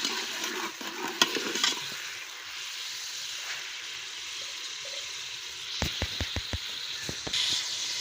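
Crushed garlic and ginger fry in hot oil for a biryani, a steady close sizzle and hiss broken by a burst of sharp spoon scrapes and clacks against the pot near the end.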